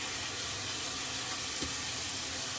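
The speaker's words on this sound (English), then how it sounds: "We're going in with half a tin of chopped tomatoes" Half a tin of chopped tomatoes goes into a hot pan for a smashed fish and potato dish, giving a steady, soft sizzle with a brief splashy thump partway through.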